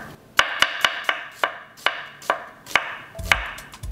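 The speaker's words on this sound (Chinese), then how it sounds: "將佢切咗一半啦，跟住你咁樣打直或者你咁樣打橫切咧，佢就會變成一個一個圈咁" A kitchen knife cuts a halved onion crosswise into rings on a board, giving about a dozen sharp, crisp chops in a steady, slightly uneven rhythm, close and clear with no talking.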